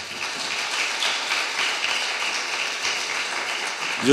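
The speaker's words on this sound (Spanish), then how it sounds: "un aplauso de bienvenida para Eduardo" A welcoming round of applause for author Eduardo Lago at a literary talk, with many hands clapping in a sustained, even wash that fades near the end as a voice begins.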